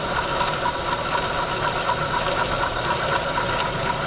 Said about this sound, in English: I'm going to bring the table over so it just contacts the workpiece